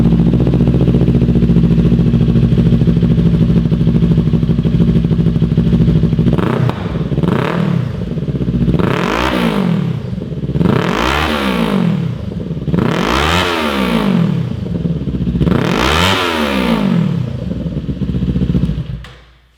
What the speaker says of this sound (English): we're gonna start the bike and hear what it sounds like